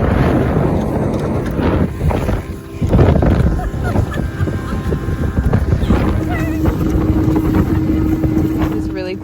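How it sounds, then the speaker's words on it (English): A loud boat engine drones close by over wind buffeting the microphone, with people talking over the noise throughout. "your stupid engine's loud"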